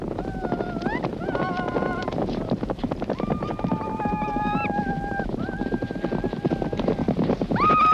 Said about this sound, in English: Mongolian horse racing is certainly exciting.